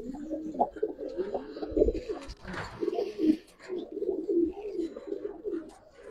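Pigeons for sale, including silver, red dobaj, army, black dobaj and ghorra birds, cooing continuously close by, with overlapping low, throaty, rolling coos and soft wing or movement noises throughout.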